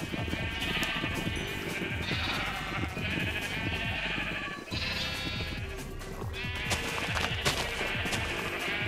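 Many Minecraft sheep bleating over one another in repeated overlapping calls, close and fairly loud, with no talking.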